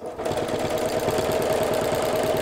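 A sewing machine free-motion quilts a fabric postcard, its rapid, steady needle stitching loud and close with no other sound.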